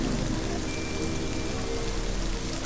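Rain pours steadily in a scene from the Malayalam film Street Light, a dense, even hiss of drops on surfaces that holds at the same level throughout, with no voices.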